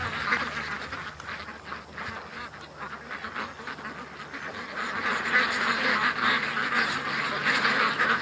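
A flock of ducks quacking continuously outdoors, overlapping calls at moderate distance with steady background noise.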